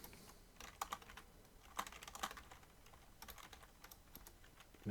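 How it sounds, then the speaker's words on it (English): Computer keyboard typing, quiet and close, with irregular bursts of clustered key clicks and short pauses between them, heard alone with no voices. "Man, my typing is awful today,"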